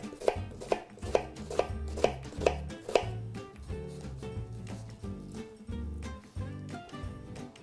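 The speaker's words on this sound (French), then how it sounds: "Une fois qu'on a réalisé notre quadrillage dans l'oignon, il ne reste plus qu'à émincer assez finement." A kitchen knife finely slices a halved, crosshatched onion on a cutting board, making quick, steady, close-up taps in an even rhythm, with no voices.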